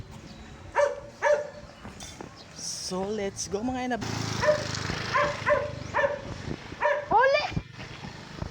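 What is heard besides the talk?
pet dog barking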